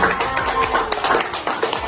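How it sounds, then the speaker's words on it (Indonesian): Group applause for a teacher after her sharing at a school session: a short burst of brisk, close clapping with uneven rhythm, lasting under two seconds. "terima kasih tepuk tangan buat Bu Haja"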